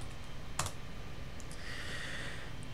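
Soft clicking keystrokes on a computer keyboard as commands are typed, a few quiet scattered taps close by with no talking.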